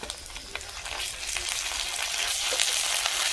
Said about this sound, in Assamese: পিঁয়াজখিনি ভাজা হৈ গ'ল, মই এতিয়া আদাখিনি ভাজি ল'ম তাতে